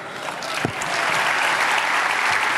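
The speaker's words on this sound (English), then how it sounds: "will you please rise and give a clean a round of applause?" An audience at a large formal meeting bursts into applause that swells within the first second and then holds as a full, steady roar of clapping.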